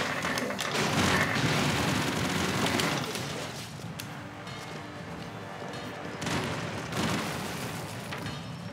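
A Broforce game explosion booms and rumbles, a dense roar that fades out with a second swell partway through, and faint voices in the background.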